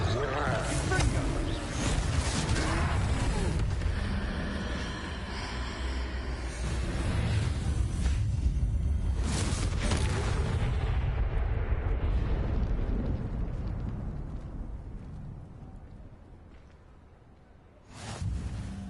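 A Confringo fire spell explosion in the video game Hogwarts Legacy: a long, loud roaring blast that rumbles for many seconds and slowly fades, followed by a short final burst, with voices talking over it.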